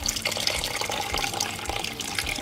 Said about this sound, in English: at this point, just add enough water.